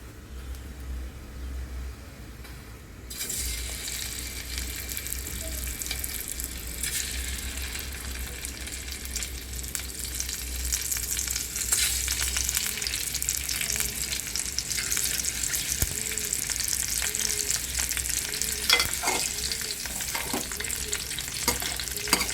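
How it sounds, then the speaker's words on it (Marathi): Eggs fry in oil for an egg masala, a quiet hum giving way after a few seconds to a steady bright sizzle with occasional stirring scrapes, close and continuous. "तेल टाकून पहिले अंडी आहे ना ती थोडीशी फ्राय करून घ्यायची आहे"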